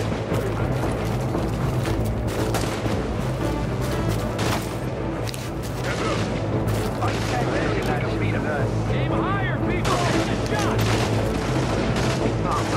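Sustained gunfire from The Division, fought at the Lincoln Tunnel Checkpoint in Manhattan against rioters, with dense overlapping bursts and rattling shots running throughout, mixed with game effects and voices talking over the fight.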